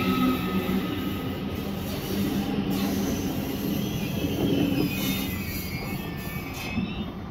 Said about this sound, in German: den ICE habe ich leider nicht mehr ganz drauf gekriegt bei der Abfahrt